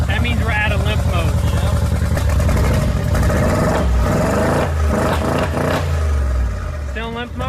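A wrecked 2022 Mercedes G63 G Wagon engine stuck in limp mode revs sluggishly with a loud, rising and falling drone that climbs slowly and never reaches full pitch, recorded close by with someone talking over it.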